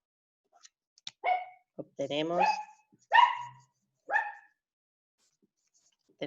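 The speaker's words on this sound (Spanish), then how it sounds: "muchos ladridos de perra" A female dog barks several times in short, sharp, separate bursts, close and loud, with a few faint clicks between the barks and someone speaking Spanish briefly at the start.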